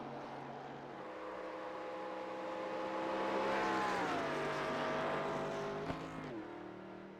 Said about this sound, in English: Woodson right now the only car out on the track for qualifying